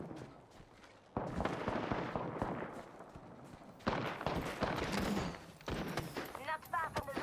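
Gunfire in the Apex Legends battle royale video game comes in rapid, loud, dense bursts in several waves, with game voice lines mixed in.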